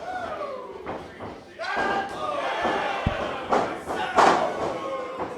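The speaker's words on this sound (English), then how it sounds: "BRG trying to go strike for strike with Monty Ariez. Trading shots in the middle of the ring" Wrestlers trade strikes in the middle of the ring at a Focus Pro Wrestling show, with several sharp thuds and slaps landing among crowd shouts and cheers, under a commentator's voice.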